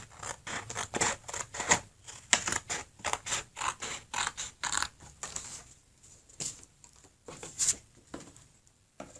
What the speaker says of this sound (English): I'm starting using my scissors, and I'm just going to chop out this floral part at the bottom here.